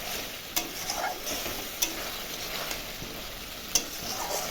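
Spice masala frying with potatoes for a rohu fish curry sizzles softly and steadily, with a few sharp scrapes of the spoon against the pan as it is stirred.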